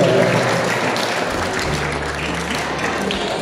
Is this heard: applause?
yes